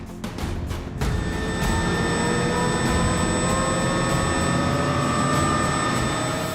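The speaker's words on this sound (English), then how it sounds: "As the Chinook crew complete their last-minute checks, their Apache escort race to get airborne." Military Chinook and Apache helicopters spooling up for takeoff on an airfield in Afghanistan, a loud, sustained turbine whine with steady high tones over a deep rumbling drone, a few rhythmic thumps early, no voices.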